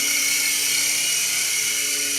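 A beginner XVB RC helicopter flies indoors, its small rotors and motor making a loud, steady high-pitched whine with a buzzing drone that holds level throughout, with no voices.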